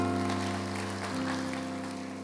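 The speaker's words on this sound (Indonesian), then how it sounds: "kasih tepuk tangan untuk Tuhan Yesus" A church congregation applauds for Jesus during a sermon, steady clapping heard over sustained keyboard or organ chords that shift midway, the sound fairly loud and continuous.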